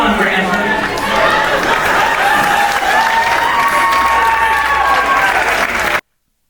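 Audience at a comedy club show clapping steadily and loudly throughout, with a dense wash of hands and some crowd noise, cutting off abruptly at the end.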